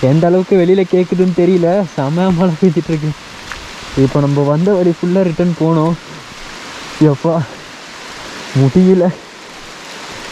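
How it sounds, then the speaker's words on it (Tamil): Heavy rain pours steadily during a road trip near a tiger safari in Chikmagalur, a dense hissing wash under a man's close, loud talking that stops and starts. "மழை பெய்ய ஆரம்பிச்சிருச்சு"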